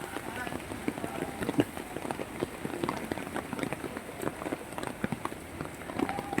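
Steady rain falls during a typhoon in Metro Manila amid rising floodwater, a dense continuous patter with scattered sharper drops, heard under faint background voices.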